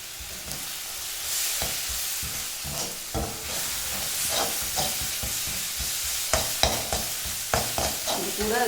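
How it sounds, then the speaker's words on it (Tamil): Onion, tomato and ginger garlic paste sautéing in a pan for mushroom pepper fry, a continuous close sizzle broken by repeated scrapes and stirs of a spatula. "வெங்காயம் தக்காளி இஞ்சி பூண்டு பேஸ்ட்டு எல்லாம் சேர்த்து நல்லா வதங்கட்டும்."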